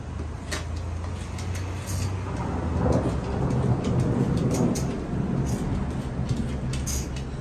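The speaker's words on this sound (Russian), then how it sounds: "сверкает гром и гроза" Rumbling thunder in an outdoor thunderstorm, a low rolling growl that swells in the middle and fades, with a few sharp clicks and rustles nearby.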